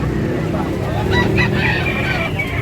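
A rooster crows amid the bustle of a Cebu chicken market, the call rising over steady crowd noise and a faint car, with other fowl clucking nearby and people talking in the background.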